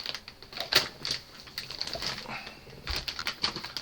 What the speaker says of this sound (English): Apologies for the crinkling.